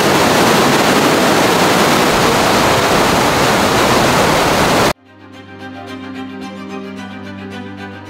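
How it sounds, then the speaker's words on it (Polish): A fast, sharply rushing mountain stream in Szklarska Poręba roars as a loud, steady broadband wash of water for several seconds, then cuts abruptly to music. "ten potok, szum, no to jest dosyć ostry"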